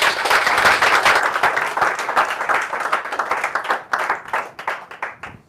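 A congregation at a businessmen's breakfast gathering applauds with dense, sustained clapping that thins into scattered claps before fading out.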